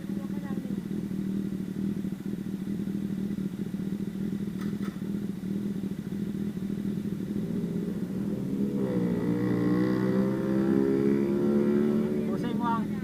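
A Kawasaki ZX636 four-cylinder sport motorcycle running on a night ride, its engine giving a steady buzzing drone close by that climbs into a higher, louder rising pitch toward the end.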